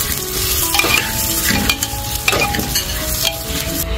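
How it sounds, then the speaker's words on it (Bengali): Broken wheat (dalia) fries in ghee in a pressure cooker, a loud close sizzle with repeated scraping strokes of stirring at an uneven rhythm, no voices. "এবার আমি এই ডালিয়াটাকে একটুখানি ভেজে নিচ্ছি"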